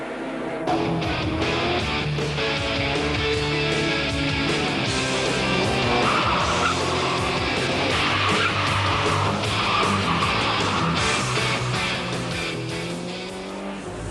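A 1991 Citroën ZX Volcane drives hard around the Folembray circuit, its engine revving loudly and continuously up to high rpm through a long right-hand curve, with tyres squealing from close inside the car.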